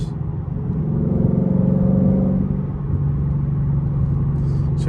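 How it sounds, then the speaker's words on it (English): A manual-transmission Ford Mustang rumbles through a downshift with automatic rev matching, the engine note rising then settling into a steady low drone, heard from inside the cabin with no speech. "I'm going to shift down the lower gears, and the car automatically matches the speeds of the car."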